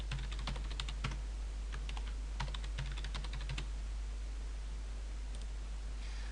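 Rapid keystrokes on a computer keyboard during a server configuration, clustered in short bursts over the first few seconds and then mostly quiet, close and clear above a steady hiss.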